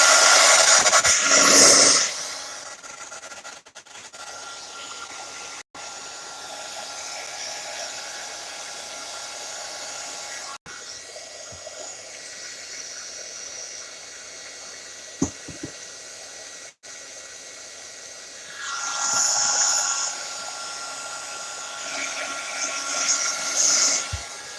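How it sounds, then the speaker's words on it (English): A heat gun runs for craft work on a journal, giving a steady whooshing blower roar that swells louder near the start and again toward the end, with no talking. "Okay, so I'm going to get the heat gun out."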